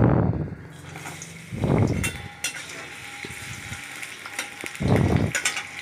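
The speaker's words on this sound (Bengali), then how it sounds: "বড়িগুলো ভেজে নেব।" Broken lentil dumplings (bori) fry in hot oil in a kadai over a gas flame, a close sizzle with scraping stirs and clatter, while three louder voiced bursts stand out above it.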